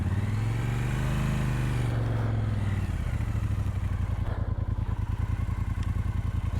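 A fuel-injected Triumph Speedmaster motorcycle engine runs up close, first a smooth rising rev that drops back, then a steady, throbbing idle with rapid, even firing pulses.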